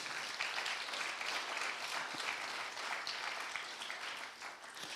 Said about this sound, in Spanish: Denle un aplauso al Señor si lo cree.